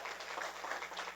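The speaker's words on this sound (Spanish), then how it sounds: "De verdad, un aplauso para ellos, por favor" A seated audience at a panel discussion applauds the panelists, a soft, steady patter of many hands clapping at a moderate distance.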